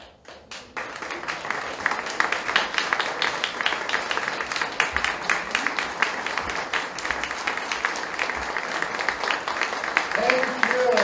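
An audience applauds at the opening of a theatre festival, with dense sustained clapping that builds after a brief pause and keeps up through the clip, fairly loud and close, with a voice briefly heard over it.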